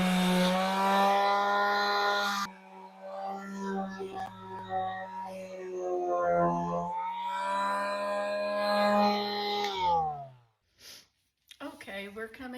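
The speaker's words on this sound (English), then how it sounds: "So I'll get back to sanding." A power sander works over a wooden shelf unit being refinished, giving a steady whining motor drone that cuts out briefly, resumes for several seconds, then stops and sputters.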